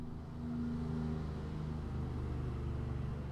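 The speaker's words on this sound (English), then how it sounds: "Loud car going past us then." A loud car rolls past outdoors, a low rumbling engine drone that swells and lingers for a few seconds, fairly close but muffled, with no talking over it.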